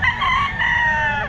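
A rooster at a pet market crows once, loud and close, a full drawn-out cock-a-doodle-doo.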